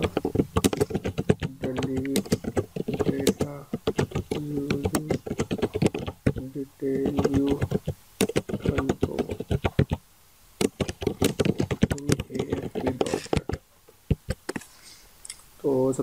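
Rapid keystrokes clatter on a computer keyboard while someone talks over them, with the typing coming in close bursts and brief pauses between them.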